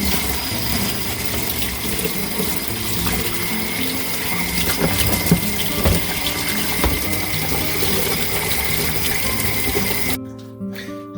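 Water runs steadily while a Seeburg 3W1 wallbox part is washed, a loud, continuous rushing splash that stops abruptly near the end.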